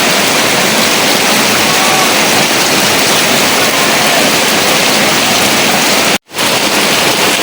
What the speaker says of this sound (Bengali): দেখেন বাইরে কত বৃষ্টি হইতেছে